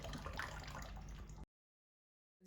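Egusi melon seeds being washed by hand in a bowl of water make a close, busy sloshing and swishing that runs for over a second, then cuts to silence before a brief return at the end.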